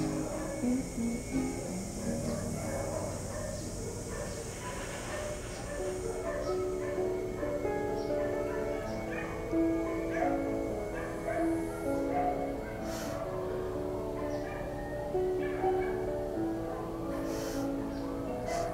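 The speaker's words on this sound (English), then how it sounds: "Somebody has like 8 dogs. They wake me up every morning." Several dogs bark and yip over a steady background of soft music, small scattered barks recurring throughout at moderate distance rather than close by.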